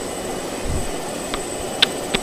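Airplane engine in Just Cause 2 multiplayer, a steady droning hum with a faint high whine throughout, broken by a few brief sharp clicks near the end.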